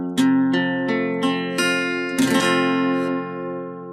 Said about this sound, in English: That's a full thumbed chord there with every note of the chord here, so it sounds like this.